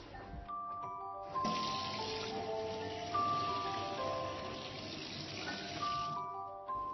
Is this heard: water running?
yes